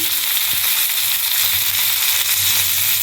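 Whole spices and two whole green chillies fry in hot oil for a Bengali Ayala fish curry. A loud, steady sizzle and crackle runs close throughout, with no voices.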